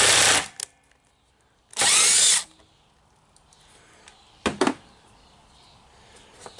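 A power drill spins out bolts on a Toyota Camry in bursts: two loud, sustained whirring runs followed by a shorter, sharper burst, with quiet pauses between them.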